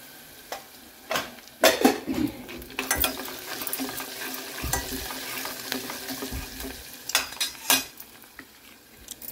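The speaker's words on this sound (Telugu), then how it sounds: "ఈ ఆలు ముక్కలన్నీ కూడా నూనెలా ఫ్రై అవుతూ ఉంటాయి" Potato pieces for potato curry fry in hot oil alongside onion and ginger-garlic paste, giving a steady close sizzle while a spoon stirs and scrapes against the pan in irregular clinks and bursts.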